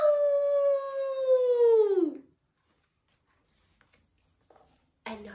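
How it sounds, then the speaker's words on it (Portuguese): Wolves howl together in a long, sustained, slightly falling cry lasting about two seconds, loud and clear, followed by near silence with faint scattered sounds and a brief burst of noise at the end. "E podes ouvi-los a uivar juntos à lua"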